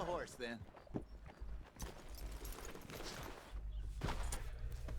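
Hooves clip-clop at a steady walking pace from a horse in Red Dead Redemption 2, moderately close, under a voice talking throughout.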